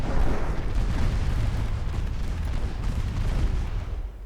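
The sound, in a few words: torpedo explosion in a naval video game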